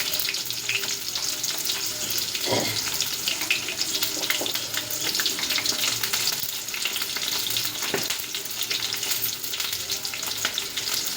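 Chopped onions frying in hot oil for a dondakai (ivy gourd) gravy curry, a steady loud sizzle throughout with occasional stirring clinks, no talk.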